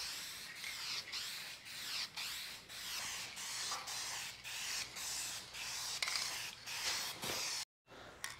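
Short hissing bursts from an 8-ounce spray paint can coat a car, about a dozen rhythmic sprays close up with brief pauses between, one longer gap near the end.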